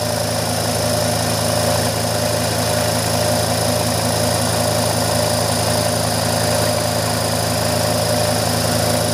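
A Kromrey generator's motor running faster after its output is shorted, a steady droning hum with a fine rapid flutter, constant and loud throughout.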